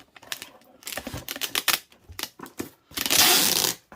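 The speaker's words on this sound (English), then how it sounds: "let's get this taped up" Packing tape is pulled off the roll and pressed onto a cardboard box holding pottery, with rapid crackling rips and taps ending in a long loud screech of tape unspooling, close up, with no speech.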